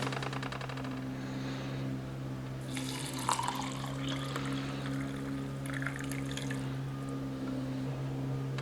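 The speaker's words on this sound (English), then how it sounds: "This calls for 200 milliliters of hot water." Hot water, 200 ml, pours steadily into a Croatian ration soup pouch holding powder and tiny noodles: a continuous trickling splash that runs for several seconds over a low steady hum.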